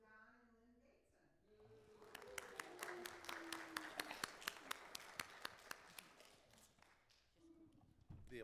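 Scattered clapping from a small church congregation for a couple's 52nd wedding anniversary, rising after a spoken voice and fading with a few last claps, faint and roomy.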